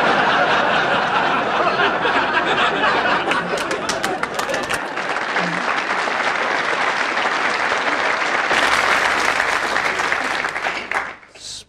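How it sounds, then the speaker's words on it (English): A theatre audience breaks into a sustained round of applause mixed with chuckles and laughter, loud and dense for about ten seconds before quickly dying away at the end. "Spontaneous bursts of applause."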